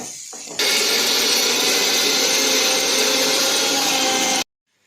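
A mixer grinder whirs loudly and steadily, grinding sautéed ingredients for manathakkali vathal kuzhambu, starting abruptly after a short pause and running close for about four seconds before cutting off sharply.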